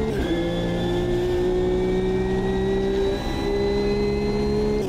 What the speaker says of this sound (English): the Lotus V6 Exige is absolutely brilliant car model. Sounds great, drives even better